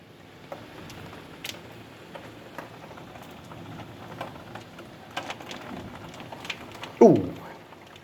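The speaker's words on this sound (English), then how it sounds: "Hail falling." Hail falling in a Sydney hailstorm, heard as a steady dense patter of ice striking surfaces with scattered sharper clicks, closing with one loud nearby impact or knock.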